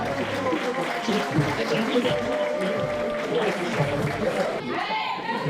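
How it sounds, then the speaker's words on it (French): A crowd at a women's boxing bout cheers and applauds in a dense, continuous wash of noise throughout, with an announcer's voice talking over it. "Un applaudissement pour elle, mesdames et messieurs."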